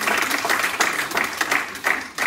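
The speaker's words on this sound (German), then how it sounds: "Also da gibt es doch einen großen Applaus." A group in a martial arts hall applauds after a first and second Dan grading exam, brisk nearby clapping from a modest number of people in loose bursts over a couple of seconds.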